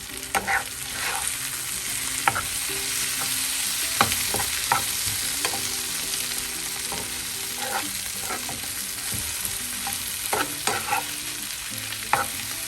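Green bitter gourd fries over low heat in a pan, a steady close sizzle running throughout with scattered clicks and scrapes of stirring, no voices.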